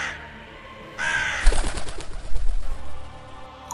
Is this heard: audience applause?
no